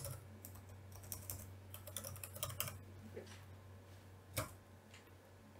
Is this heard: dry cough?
no